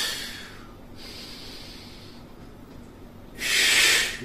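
Heavy breathing during a thigh and ab workout, a long hissing exhale, a pause, then a sharp forceful breath near the end, close and fairly quiet with no talk.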